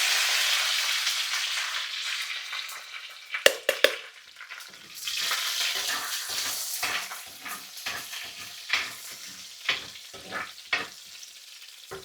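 Dried red chillies and curry leaves fry in hot oil after mustard seeds for a crab curry, giving a steady sizzle with a burst of sharp pops, then scattered crackles and spits close by, no voices.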